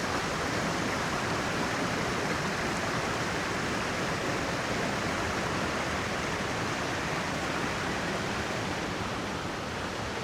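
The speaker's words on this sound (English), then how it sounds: "Look at this big waterfall again." A steady, dense roar of falling water fills the air without a break, loud and constant like a big waterfall nearby, at Sarah's Creek in North Georgia.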